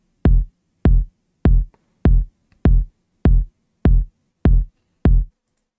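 Nine punchy electronic kick drum hits from FL Studio land evenly on each beat, deep and dry with silence between them.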